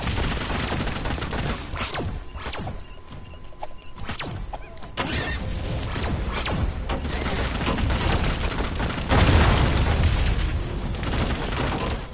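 Gunfire in the video game Tamarin bursts in dense, rapid volleys with booming impacts and mechanical clatter, loud and continuous over a rumbling game backdrop.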